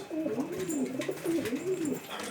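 Pigeons coo steadily in a loft, a close rolling warble repeating throughout with faint background rustle.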